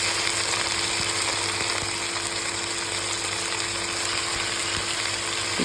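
Chicken frying in a pan over well-browned onions, a loud continuous sizzle with steady hiss and faint occasional stirring clicks, no talking.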